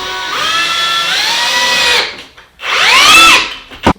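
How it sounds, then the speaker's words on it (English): A power drill whirs loudly into a wooden cleat in two bursts, the motor pitch rising and falling, with a short pause between and a clunk at the end. "This way it's going to ensure that I'm drilling into the cleat."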